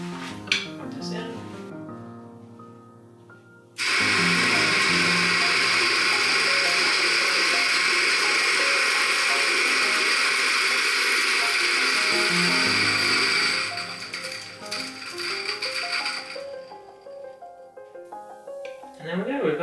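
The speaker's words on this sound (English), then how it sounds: "Let's try and grind some beans." An electric coffee grinder that had been broken grinds coffee beans in a loud, steady whirring burst of about ten seconds that then tapers off, with a few clicks and handling sounds around it.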